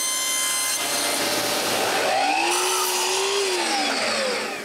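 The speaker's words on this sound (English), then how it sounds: "I begin by cutting some thin plywood." Thin plywood is sawn in a workshop, a loud continuous rasping cut with a rising and falling whine as the blade works through the sheet, heard alone without talk.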